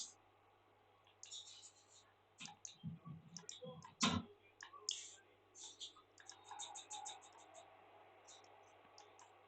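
Mouse clicks on a computer, a scattered series of short sharp taps spread across the stretch, fairly close but quiet over a low steady hum.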